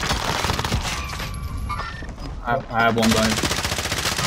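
Gunfire from Call of Duty: Modern Warfare multiplayer rattles through in dense bursts, loud and close, while players talk over it.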